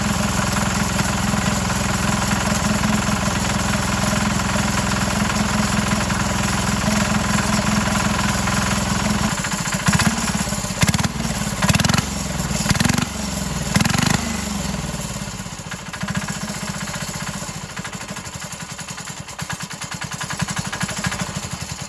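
A small 196cc diesel engine runs on diesel with a loud, steady knocking chug, then its revs lurch up and down in a few surges before settling into a rougher, uneven idle.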